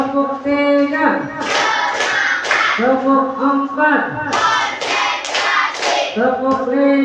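Children in a classroom play a counted clapping game, with sharp bursts of hand claps mixed with loud, chanting young voices in a steady rhythm.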